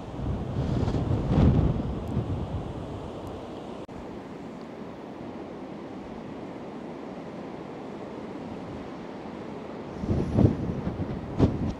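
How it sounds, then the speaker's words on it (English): Strong gale-force wind on the Blackpool seafront, a loud continuous rumbling roar buffeting the microphone, swelling in heavier gusts near the start and end. "the wind is really, really strong today. So it's gale force winds"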